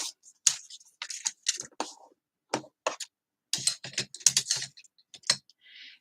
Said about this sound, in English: line up my scissors with the edge, and trim that off